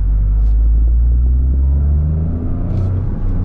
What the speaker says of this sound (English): So I'm gonna do some rev matching myself here.